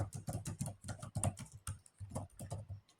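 Quick bursts of key clicks from a computer keyboard while a name is typed, close and fairly quiet, in an uneven rhythm of short runs and brief pauses with no voice.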